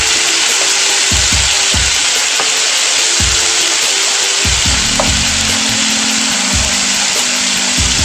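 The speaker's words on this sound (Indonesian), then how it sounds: "Kemudian adukkan gongso-gongso sampai baunya harum." A ground spice paste for fish rica sautés in a hot pan, its loud, constant frying hiss running throughout as a utensil stirs and scrapes in repeated strokes, with no talking.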